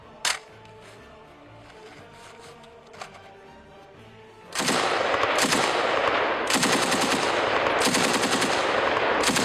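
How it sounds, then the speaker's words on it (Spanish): A Soviet DP light machine gun fires, with a couple of isolated shots followed by long, loud sustained bursts of automatic fire with brief pauses between them. "la DP fue un arma simple, funcional y robusta, convirtiéndose en la ametralladora ligera primaria del Ejército Rojo"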